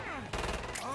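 Enemy gunfire in the video game Killing Floor 2 on the Burning Paris map, a sudden loud burst of rapid shots that cuts in partway through and carries on, with music and game sounds underneath.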